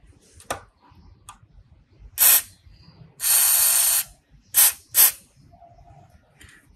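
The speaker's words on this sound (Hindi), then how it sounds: "तो इसके ऊपर भी हम स्प्रे करते हैं।" WD-40 sprayed onto rusty parts of a Suzuki GS150 SE motorcycle, several short hissing bursts and one longer spray, close and loud, separated by quiet gaps with faint ticking.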